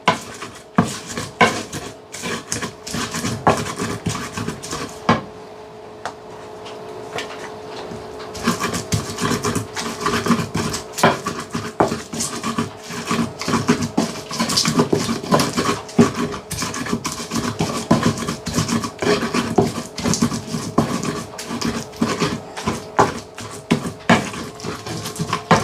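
Chili peppers fry in a pan with a steady crackling sizzle and scraping of a utensil against the metal, close and continuous, briefly quieter then busier again, with no talking.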